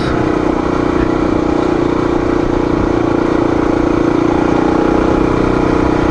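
A Honda XR motorcycle engine on its stock carburetor runs at a steady idle with a low, even hum and a constant drone, close and loud, with no talking.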